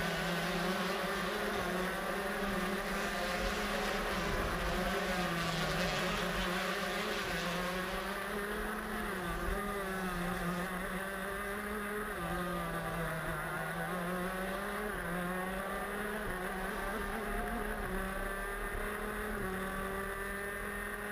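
Racing karts in the S2 final at the SKUSA SuperNationals make a continuous, buzzing engine drone throughout, with pitch rising and falling as the karts accelerate and lift off on track. No voices can be heard.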